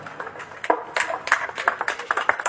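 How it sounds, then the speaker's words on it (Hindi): A crowd at an outdoor election rally in Momanwas claps steadily and loudly, a dense run of sharp applause that keeps going from start to finish. "तालियां जोरदार बजाइए।"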